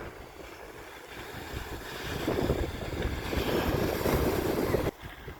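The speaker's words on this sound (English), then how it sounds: "There's the waves." Ocean waves at the south jetty in Florence, Oregon, a broad rushing surf roar swelling over several seconds, mixed with wind buffeting the microphone, then cutting off abruptly.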